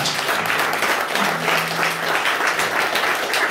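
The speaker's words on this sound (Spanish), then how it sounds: "Un aplauso para la ofrenda de este día." Congregation at Mass applauding the day's offering, a dense, steady round of clapping from many hands heard close and loud.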